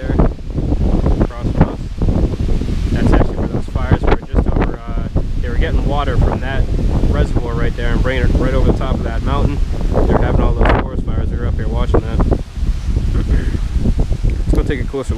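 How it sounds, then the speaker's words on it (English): Strong wind at a mountain overlook on US 276 at Caesars Head State Park, loud continuous buffeting across the microphone with gusty roaring, while a person talks over it throughout. "Wow, it is super windy out."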